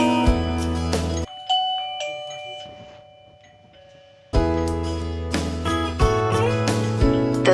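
A C089WX video doorbell chime rings out loudly when the button is pressed, a bright electronic melody that stops, leaves a quiet gap with faint tones, then resumes with repeated ringing notes.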